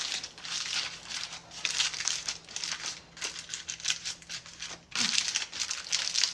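Parchment paper crinkles as it is pressed down to seal the edges over a steamed meat dish, close and soft, in bursts of crisp rustling with brief pauses.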